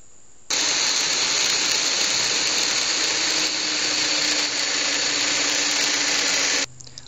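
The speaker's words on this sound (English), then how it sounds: "Now I have to make this hole for the all thread to go through." A power drill bores a hole through wood for a threaded rod. It starts abruptly and runs at a loud, steady whine for about six seconds, close up, then stops sharply, with no talking.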